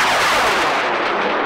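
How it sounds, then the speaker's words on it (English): A high-power model rocket lifts off on a K1100 motor from a launch pad, a loud, sharp roaring blast that sweeps upward and fades as it climbs away. "Alright, so we're going K1100 on pad 6, this little rocket. Going in 5, 4, 3, 2, 1."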